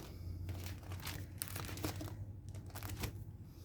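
Crinkling and rustling of fancy paper recipe pages in a homemade binder, handled up close in a kitchen with repeated crisp crackles and light tearing-like scrapes throughout.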